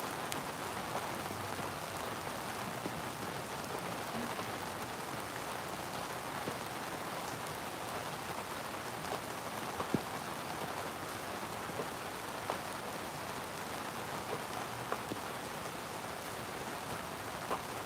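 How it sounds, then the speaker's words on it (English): Steady outdoor rain falls without pause, an even wide hiss of drops on leaves and surfaces with occasional louder individual splats close by. "as you can see, it is raining out here"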